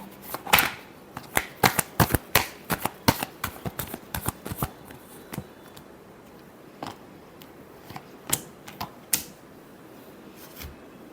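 Tarot cards being shuffled by hand, a series of crisp riffling snaps and flicks, dense at first, then sparser and irregular, close and clear with no talking.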